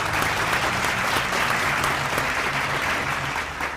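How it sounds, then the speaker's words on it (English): Applause at a school debate for both speakers: sustained crowd clapping that stays loud and steady, with a faint slight taper near the end. "A round of applause for both speakers."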